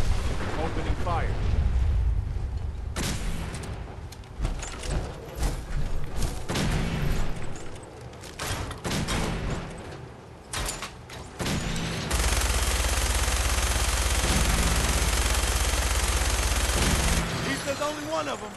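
Fallout 4 Far Harbor combat brings bursts of gunfire, from rapid automatic volleys to heavy booming shots, loud and close and spread over nearly twenty seconds, with a sustained roaring stretch in the second half.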